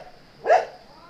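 A lone dog gives one short bark, moderately loud and a little distant, breaking through a quiet indoor room during a lecture.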